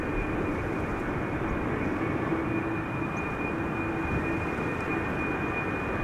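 A KLM Embraer 190 airliner arrives at Schiphol's Buitenveldertbaan runway, heard as a steady, fairly faint distant engine rumble with a thin high whine held throughout, no talk.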